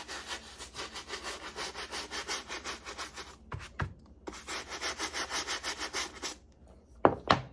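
A brush scrubs dirt off a Jordan 9 sneaker in quick, rhythmic back-and-forth strokes, close and fairly quiet, with a brief pause midway and a couple of knocks near the end.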